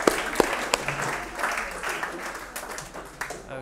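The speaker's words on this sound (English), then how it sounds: "Let's give our willing volunteers a round of applause." An audience at a parlour magic show applauds two volunteers coming up for a stunt, a dense wash of clapping with a few sharp near claps and a voice talking over it.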